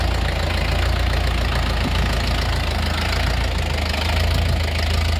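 A Lovol 454 tractor engine idles steadily with a low, knocking diesel rumble that stays constant throughout, close by and with no talking.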